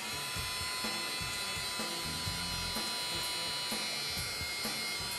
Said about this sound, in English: Then using our heat gun, we slowly heat it up.